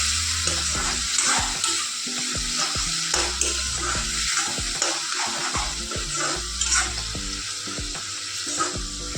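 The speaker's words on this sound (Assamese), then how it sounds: "আদা নহৰু আৰু জলকীয়া পেষ্টখিনি অলপ সময় ভাজি লওঁ" Steady sizzling of ginger, garlic and chilli paste frying in a hot pan, with repeated scraping and stirring clatters throughout; close and fairly loud, no voices.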